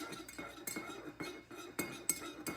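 A knife stirs coffee and clinks against the sides of the cup in a run of light, quick taps at an uneven rhythm, close but quiet.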